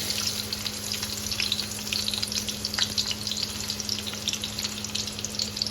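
Onion frying in a pan at the start of a bitter gourd curry, a steady close sizzle with a constant low hum beneath it.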